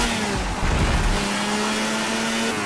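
Motorbike engine with turbo whine in the Moto Racer 4 video game, a steady loud drone with a sustained high tone, revving briefly near the start, no talking.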